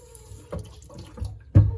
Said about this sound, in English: oh, sorry, the faucet was on.